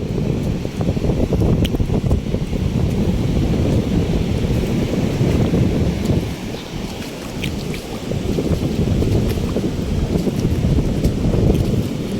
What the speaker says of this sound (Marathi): मित्रांनो बघा हा सुंदर असा उफान आलेला समुद्र